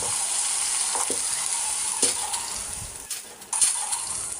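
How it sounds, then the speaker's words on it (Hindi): Onions fry with ginger garlic paste in a pan, a loud continuous sizzle broken by several sharp scraping stirs and clanks. "तो हम प्याज़ों को हल्का सुनहरा करेंगे, उसके बाद इसमें ऐड कर देंगे अदरक लहसुन का पेस्ट। चलें जी, अब इनको थोड़ा सा फ्राई करेंगे।"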